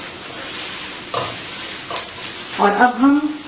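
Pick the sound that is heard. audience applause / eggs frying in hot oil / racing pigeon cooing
eggs frying in hot oil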